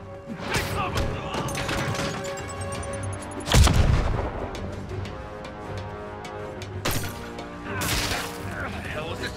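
Gunfire and heavy impacts ring out in the Spider-Man video game, with sharp repeated shots, a big booming crash near the middle and shouting voices over a tense musical backdrop.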